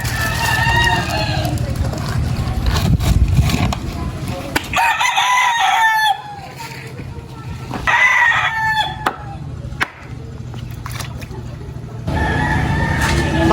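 A rooster crows loudly and repeatedly, with a chicken clucking, outdoors with steady background noise and passing engine rumble.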